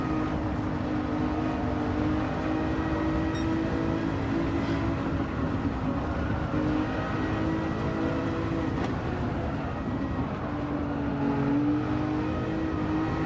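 Race car engine in a racing video game, with a Toyota Supra racing close behind: a steady droning engine hum with harmonic whine, sustained and even at moderate volume, without talk.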